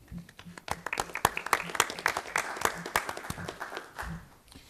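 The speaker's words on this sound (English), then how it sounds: "We can give him a round of applause, can't we, David?" Audience applause at a Fargo city commission regular meeting, a moderate round of scattered hand claps from a small group, irregular and fairly close, tapering off near the end.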